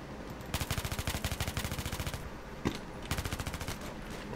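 Rapid automatic fire from an MTAR-21 rifle in Battlefield 3, with two long bursts of evenly spaced shots separated by a brief pause and a single sharper crack between them.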